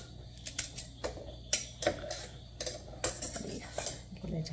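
A knife trims the top off a washed vegetable during sandwich preparation, giving a few sharp, close clicks and taps at irregular intervals over a low, steady background hum.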